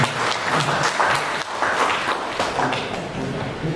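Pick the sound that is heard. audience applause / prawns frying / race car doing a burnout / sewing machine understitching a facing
audience applause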